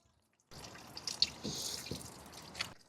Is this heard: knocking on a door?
no